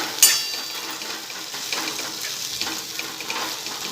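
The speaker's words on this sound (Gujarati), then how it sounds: "હવે આપણે પ્લેટ ઢાંકી અને ઉપર પાણી એડ કરીશું।" Water is poured onto a plate covering a pan of spiny gourd curry cooking on the stove. A sharp metal clink opens a steady splashing, hissing pour that runs throughout, close and fairly loud, with no talk.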